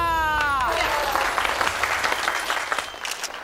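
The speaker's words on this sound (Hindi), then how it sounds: "तालियां" Applause breaks out in a dramatic scene crediting a police inspector, a burst of clapping that follows a fading vocal tone and continues with uneven, choppy claps to the end.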